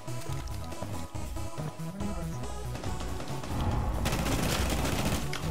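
Gunfire in Rainbow Six Siege as shots are fired through walls, with dense rapid bursts over game sound that grow louder and fuller near the end; no voices.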